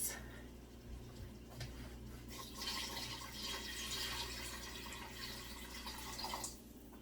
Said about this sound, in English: we're going to put 4 cups of water